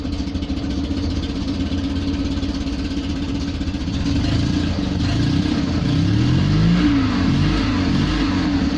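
An Invacar engine runs with its exhaust clamps tightened, idling at first and then revving up and down in several rising and falling sweeps, loud and close with no talk.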